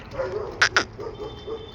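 Two quick, sharp dog barks close by, one right after the other, over a quiet background.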